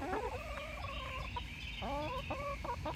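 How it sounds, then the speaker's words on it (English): Chickens in a chicken run give clucks and short rising calls close by, a few birds sounding in irregular bursts over a low background rumble. "Whenever I come in the chicken run and all the chickens come up to me"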